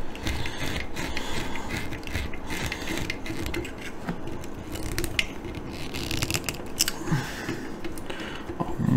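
A small VM screw is driven by hand into a Citroën C4 WRC scale model, making dense ratcheting clicks and faint scraping of the tool close up, continuous throughout with no speech.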